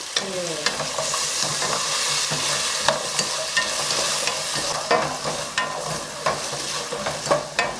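Firm vegetables, carrot and lotus root, stir-fried in a pan for a Korean vegan curry, with a steady sizzle and repeated clattering scrapes of a utensil tossing the pieces, growing busier toward the end.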